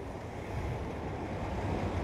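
Steady, heavy rushing roar of strong flood water flowing through the Tarnah Nallah, a dense continuous low wash with wind buffeting, loud and close without pause.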